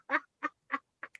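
A pet bird perched on a headset gives five short, harsh squawks in an even rhythm, close and fairly quiet, separated by silence.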